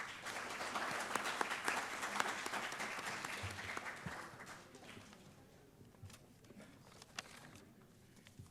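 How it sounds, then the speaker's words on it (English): An audience at an HR summit panel discussion gives a loud, dense round of applause as experts take the stage. The clapping then thins out into scattered, fading claps. "Let's welcome them with a huge round of applause."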